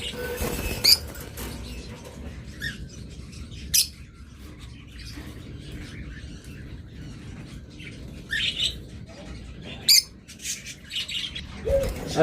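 Caged lovebirds and cockatiels at a bird market squawk and chirp in sharp, scattered bursts over a low background hum, some calls loud and close.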